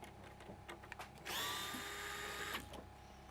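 Handheld power tool whirring during a PS5 Slim console repair and stuck disc retrieval, a short high-pitched burst of about a second after a few faint clicks and knocks, then cutting off into quiet bench handling.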